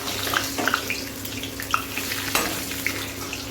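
Bay leaf dropped into hot oil in a wok, a soft steady sizzle with light crackles and a few sharp clinks and scrapes, close and fairly quiet, with no talking.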